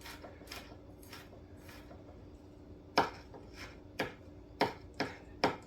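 Peeled garlic cloves being minced with a knife on a board. Faint taps come early, then five sharp, close chops fall at uneven intervals over a low background hum.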